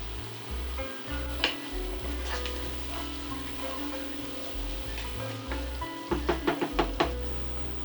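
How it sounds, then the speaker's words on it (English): Onions seasoned with salt and pepper sizzle steadily in a pot for a one-pot brown rice and chickpea pilau, a continuous frying hiss punctuated by several sharp knocks of a utensil against the pot near the end. "Season the onions with salt and pepper and cook until slightly browned."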